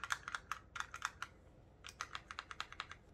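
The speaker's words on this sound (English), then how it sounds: "I remember saying that just clicking these was like addicting" A Kamen Rider Wizard Driver toy belt buckle clicks rapidly, two bursts of sharp plastic clicks close to the mic, a short pause between them, quiet background.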